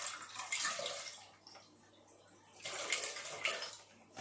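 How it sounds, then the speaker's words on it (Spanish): Skimmed milk poured from a carton into a cooking pot, a steady liquid splash and gurgle in two bursts with a quieter pause between, close and alone. "Vamos a poner un litro de leche."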